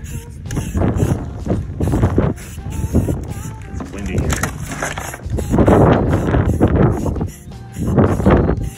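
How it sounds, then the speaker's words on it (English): Gusts of wind buffet the microphone in rough, low rumbling bursts, with clattering and handling noises mixed in throughout. "It's windy."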